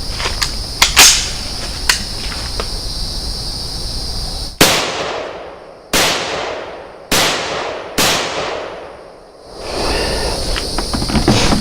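Four loud, sharp gunshots at shooting practice, spaced about a second apart, each with a ringing outdoor decay, preceded by faint clicks and insect-like background noise.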